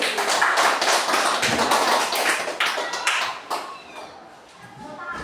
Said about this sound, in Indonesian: tepuk tangan dulu Chelsea